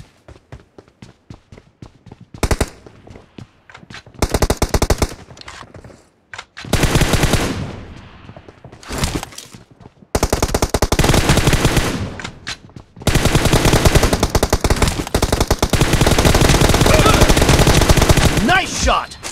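Bursts of automatic and single gunfire in a PUBG (BGMI) 1v1 match, loud close volleys separated by short gaps, with rapid shots and longer sustained sprays in the second half.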